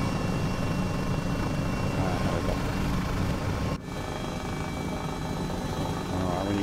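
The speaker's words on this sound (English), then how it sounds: "It's a fairly quiet aircraft." A Sikorsky H-34 helicopter in Microsoft Flight Simulator gives a steady, dense rotor and engine drone that stays loud and unbroken, with one brief dip midway.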